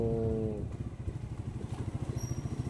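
A motorcycle riding past a viaduct construction site in Davao City, with a brief tone fading into a steady, pulsing low engine putter up close and a faint high whine near the end.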